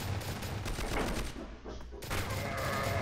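A G11 Caveira Azul toy blaster fires in three-shot burst mode, dense rattling bursts that are loud and close, with a brief quieter gap midway.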